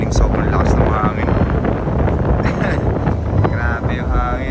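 Strong midnight wind buffets a campsite at Pinelake Campground in Zambales, roaring steadily against the microphone for the whole stretch with gusty low rumble and flapping, while a person talks over it.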